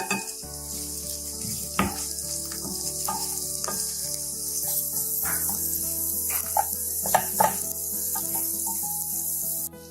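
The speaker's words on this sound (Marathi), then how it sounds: "2 चमचे लसूण, हा सुद्धा याबरोबरच परतून घ्यायचा" Ginger and garlic sauté in a pan for katachi amti, giving a steady loud sizzle with occasional stirring scrapes and clinks throughout, and no voices.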